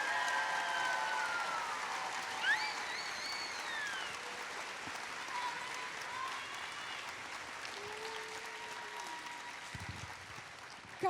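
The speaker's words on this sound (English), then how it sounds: "can we just give a big round of applause for Connie and just a big thank you?" A crowd at a district championship opening ceremony keeps up steady applause from start to finish, with scattered whistles and cheers over the clapping.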